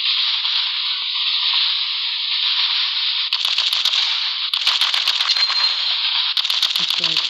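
Gunfire from the mobile shooter game Cover Fire, with bursts of sharp rapid shots crackling over a steady loud mid-range game drone, arriving in three clustered volleys in the later part.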